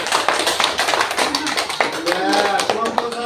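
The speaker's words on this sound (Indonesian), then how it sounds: "Kita kasih tepuk tangan untuk kelompok 1." Classroom students clap for a presenting group, a dense burst of close, bright hand claps throughout, with a voice speaking over the applause in the latter half.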